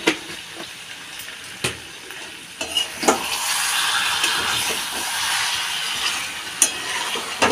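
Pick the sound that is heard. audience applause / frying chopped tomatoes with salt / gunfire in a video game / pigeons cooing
frying chopped tomatoes with salt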